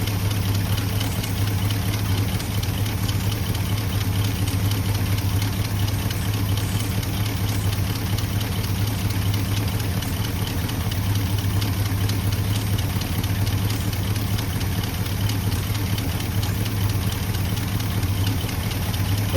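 A 1985 Chevrolet C20 pickup truck's engine, back running after sitting more than ten years, idles steadily and close by with a low, even rumble that holds unchanged throughout, with no talking.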